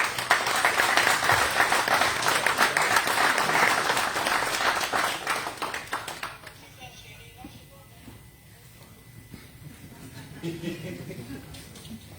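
An audience at a conference-debate in Gembloux applauds and cheers as a guest arrives on stage, with dense, loud clapping for about six seconds before it fades to scattered claps and murmuring crowd noise.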